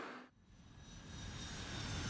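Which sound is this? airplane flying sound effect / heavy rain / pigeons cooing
airplane flying sound effect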